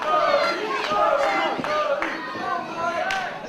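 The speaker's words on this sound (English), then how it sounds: "Again, the fans cheering him" Wrestling fans roar and shout in an arena during a title match, a loud continuous crowd noise with rising yells and cheers.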